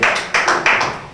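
Audience at a Portuguese-language rap battle event claps in a few loud, uneven bursts after a round, with bright broadband smacks rising and fading roughly every third of a second.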